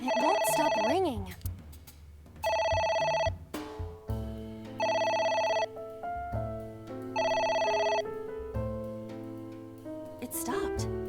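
A phone rings insistently in the video game Ai: The Somnium Files, with three clear trilling bursts spaced evenly over a low musical backdrop, and a voice speaking near the start and end.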